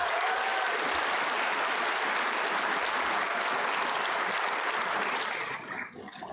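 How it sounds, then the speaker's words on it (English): Sustained audience applause filling a graduation completion ceremony hall for the Class of 2024, a dense steady wash of clapping that thins out and tapers near the end. "Please help me by giving them a round of applause"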